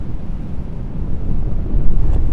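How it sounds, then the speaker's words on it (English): Loud, blustery wind buffeting the microphone on a golf course in Las Vegas, a constant low rumble that swells stronger toward the end, with no voices. "This was by far the windiest round of golf I've ever played."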